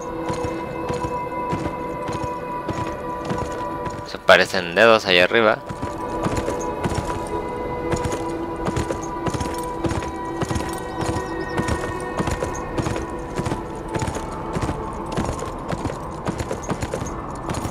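Horse hooves clip-clop in the video game Beyond: Two Souls, a steady rhythmic series of close, distinct footfalls that runs throughout, broken by a short sharp burst of noise partway through, with a person speaking briefly over it.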